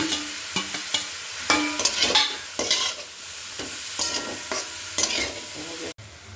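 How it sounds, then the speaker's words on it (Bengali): Carrots, beetroot, onion and peas fry in a pan while being stirred, giving a steady sizzle broken by repeated scraping strokes of a spatula, close and fairly loud, with no talking. "আমাদের গাজর, বিট, পেঁয়াজ, মটরশুঁটি এগুলো ভাজা মোটামুটি 20 মিনিট হয়ে গেছে।"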